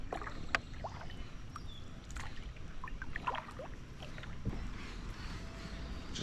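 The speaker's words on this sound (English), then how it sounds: "we're gonna go ahead and paddle upstream" A kayak paddling upstream in a shallow creek, with soft paddle dips and water splashes at irregular intervals over a low steady outdoor background, close and fairly quiet, with no talking.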